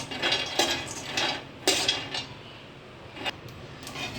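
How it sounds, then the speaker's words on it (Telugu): Almonds being dry-roasted in a kadai on a stove, with several sharp scraping clinks of a metal spoon against the pan over a low background hiss, spaced irregularly and fairly close. "పొయ్యి మీద బాండీ పెట్టి ఫస్ట్ బాదం పప్పు ఇలా బాదం పప్పు బయటగా ఎంత ఒక ఫైవ్ మినిట్స్ వేపుకుంటే"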